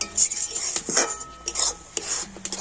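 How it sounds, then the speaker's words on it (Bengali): Metal spoon scraping and clinking against a pan while a semolina mixture is stirred, a run of close, irregular scrapes and taps with no talk. "এইভাবে কন্টিনিউ নাড়াচাড়া করতে হবে"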